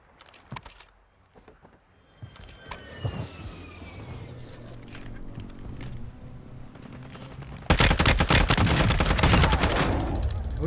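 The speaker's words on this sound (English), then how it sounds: "I see gunfire" Bursts of rapid video game gunfire in Warzone 2 crackle and boom, sparse at first, then a loud sustained volley dominates the end.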